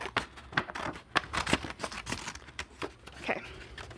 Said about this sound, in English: So I'm going to cut along this line.